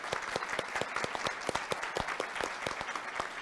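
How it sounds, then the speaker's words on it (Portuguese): Steady applause from a crowd for the speakers at the EXPOSIBRAM 2023 mining conference, dense clapping throughout at an even, moderate loudness. "a quem peço uma salva de palmas"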